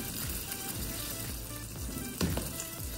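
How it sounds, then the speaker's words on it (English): Prawns cook in a creamy tomato sauce in a pan, giving a steady, close sizzle with a few soft scrapes and stirring knocks and no talking. "lutuin natin yung prawns together with the sauce"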